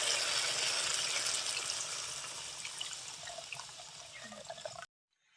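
Water poured into a pan of cooking masala for Bengali radish kofta, a steady hissing, splashing pour that fades gradually over several seconds, then cuts off abruptly.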